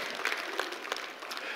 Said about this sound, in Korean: 우리 하나님 앞에 감사한 마음으로 한번 큰 박수를 한번 올려드립니다